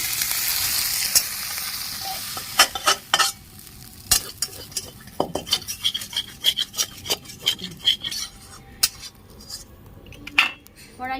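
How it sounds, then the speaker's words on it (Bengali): Prawns fried until red are stirred and lifted out of a pan, with repeated scraping and clinking of a metal utensil against the pan over a steady sizzle of hot oil, loud and close, with no talking. "চিংড়ি মাছগুলো লাল করে ভাজা হয়ে গেছে আমি এবার নামিয়ে নিচ্ছি"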